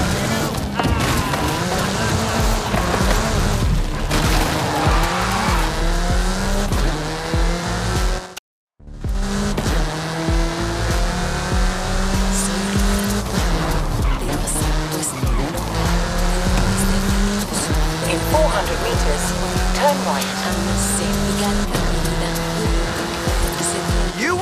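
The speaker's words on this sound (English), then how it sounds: "Get some speed, then turn into the countryside. Really see what this car can do." VUHL car in the video game Forza Horizon 5 accelerating hard with sustained tire squeal and skidding, engine roaring steadily throughout, loud and close, with one brief cut of silence partway through.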